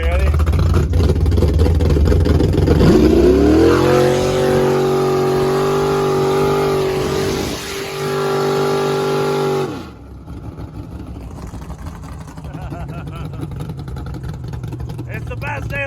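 A Duramax truck floored in third gear, heard close and loud, pulls hard with a deep engine roar that climbs steadily in pitch for about ten seconds, then abruptly drops to a lower, quieter drone.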